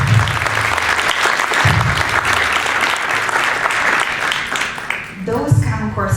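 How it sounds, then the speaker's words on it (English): An audience applauds teachers at a school principals' presentation on 21st century learning, a dense, sustained burst of clapping from a crowd that fades toward the end as a voice begins speaking. "So they deserve definitely a round of applause for all of the work they're"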